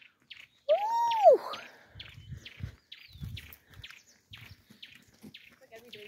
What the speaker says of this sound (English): y'all hear these birds?